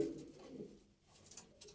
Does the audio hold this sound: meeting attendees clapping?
no